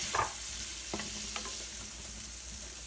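Fresh carrots sizzle in melted butter over medium heat, a steady soft frying hiss with occasional scrapes and clicks of stirring, fairly quiet and close with no voices.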